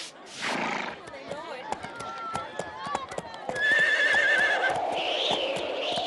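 A horse whinnies in a high, wavering cry near the middle, amid hoofbeats and a busy scene with speech around it.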